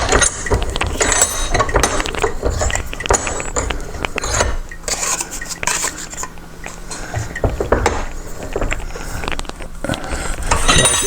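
A clamp on a folding LNB satellite dish arm is tightened, giving loud, close metallic ratcheting, grinding and clicking in irregular bursts, with rubbing and knocks of the mechanism throughout.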